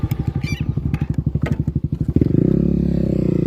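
A motorcycle with a modified exhaust fires up, giving rapid, loud, choppy engine pulses up close, then settles into a dense, steady rumbling idle.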